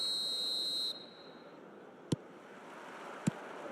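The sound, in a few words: referee whistle at kickoff in eFootball video game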